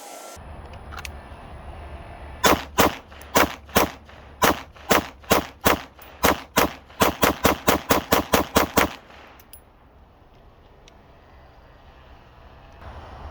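A Staccato C2 pistol fitted with a Parker Mountain compensator fires about eighteen loud, sharp shots outdoors at a target, starting at a steady pace and then rapidly speeding up into a quick string before falling silent.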